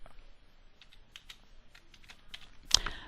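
Quick, light taps on a computer keyboard while entering a short name, a close run of soft clicks ending with a louder, sharper keystroke, heard without talk.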